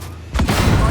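A tank's 120mm cannon fires in the armored combat video game Armored Warfare: a sudden, loud, heavy boom after a moment of quiet, with a rumbling tail that fills the rest of the second.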